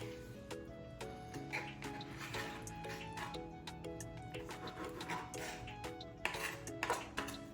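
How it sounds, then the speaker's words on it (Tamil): Bamboo shoot being chopped into small pieces with a knife, a steady run of sharp taps and clicks against a board in a kitchen, with a faint background hum. "நம்ம இதை சின்ன சின்னதாக கட் பண்ணி எடுக்க போகிறோம்"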